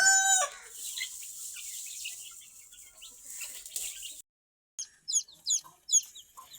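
Two-month-old desi chickens call nearby in high, overlapping clucks and chirps, a continuous chatter that breaks off briefly before resuming in several short bursts.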